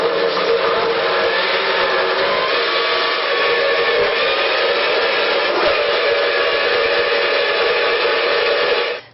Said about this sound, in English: So I'm going to blend a little longer, and I'm going to add just a tiny bit more water